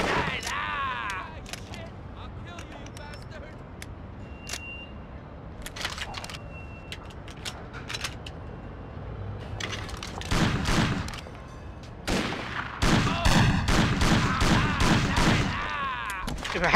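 Gunfire in the crime game Mafia, with scattered single shots early on giving way to loud, rapid volleys of close pistol and machine-gun fire in the second half, mixed with engine noise and occasional game voices.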